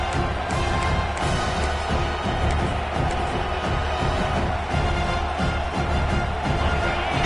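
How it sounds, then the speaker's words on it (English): A large crowd roars continuously, a dense wash of cheering and noise that stays loud and steady throughout. "this crowd is fired up. Listen to this noise here."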